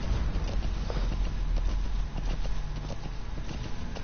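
A horse walks in the Metal Gear Solid V video game, its hooves clip-clopping in a steady, close rhythm over a constant low ambient rumble, with no voices.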